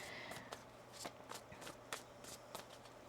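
Tarot cards shuffled by hand in a quiet room, a series of soft riffling bursts at a steady irregular rhythm, close and faint over a low hum.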